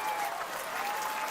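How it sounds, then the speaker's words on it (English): Steady applause and clapping sound throughout, a dense even wash of many hands with no pauses, accompanied by a faint constant tone. "So please clap. Please clap."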